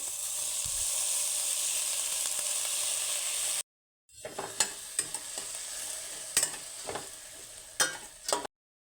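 Sprouted moong stirs through hot spiced oil in a pan, first as a steady frying hiss, then after a brief silence as close, sharp scrapes of the spoon over quieter sizzling.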